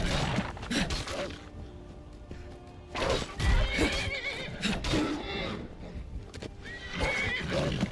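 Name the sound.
horse neighing in the video game Skyrim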